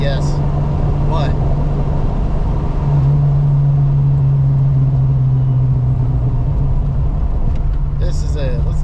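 A Ford Fox body Mustang project car, still needing an alignment, rumbles with a steady, close engine drone from a stop, while someone talks over it throughout.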